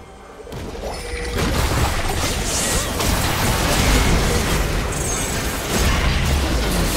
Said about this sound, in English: Blue team's turret has been destroyed.